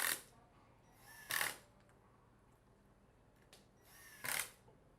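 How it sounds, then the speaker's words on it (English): A power drill driving screws into a cabinet door whirs in two short, sharp bursts separated by quiet pauses, with faint mechanical clicks in between. "use a drill and prepackaged screws to fix them to the door"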